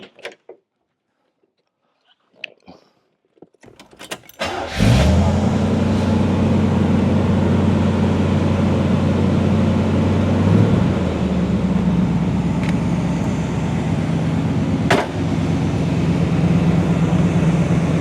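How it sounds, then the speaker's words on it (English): After a few quiet clicks and handling noises, an Oldsmobile 350 cubic inch 5.7 liter V8 cranks and fires, then settles into a loud, steady, deep idle close by, with a small change in tone partway through and no talking. "Let's start her up and see how that old sound. The Oldsmobile engine is my favorite sounding engine."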